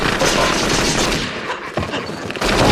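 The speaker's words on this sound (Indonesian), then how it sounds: "Lalu ia mengerjai Marv dengan memutarkan kaset CD film mafia favoritnya beserta menyalakan petasan agar terlihat seperti nyata." Bursts of rapid gunfire from a gangster film played on a recording, mixed with firecrackers, dense and loud, briefly easing before a final heavy volley.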